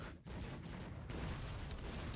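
Dense, continuous roar of rapid cannon fire and booming blasts from a Cossacks 3 video game battle, loud and sustained with no pauses.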